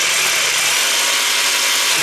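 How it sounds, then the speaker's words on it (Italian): A Bosch cordless hammer drill converted to lithium batteries whirs loudly and steadily for the whole stretch, a dense high-pitched motor hum with no voices. "vediamo il trapano che funziona"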